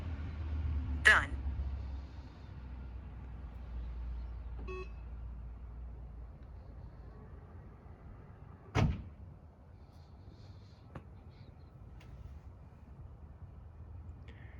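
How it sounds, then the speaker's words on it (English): A Tesla rear trunk closes on a voice command: a sharp motor whine and a single solid thump midway, with a faint beep, over a quiet low hum. "close rear trunk"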